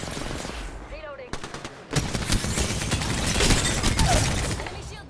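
An enemy shield shatters during a shooter video game firefight, heard as crunching breaks amid rapid machine-gun bursts and loud gunfire that build and stay dense, with game voice callouts over the action.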